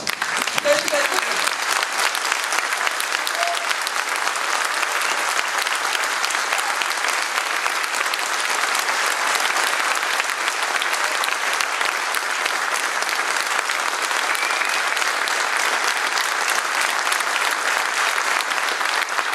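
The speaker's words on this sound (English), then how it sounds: "A round of applause for the people of Gaza." A large lecture-hall audience gives a long, loud standing ovation, dense continuous clapping that stays steady for nearly twenty seconds with a few voices beneath it.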